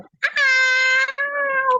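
A child imitates a cat's meow, giving one loud, drawn-out, tonal mew that dips in pitch partway through and holds for over a second, close to the microphone.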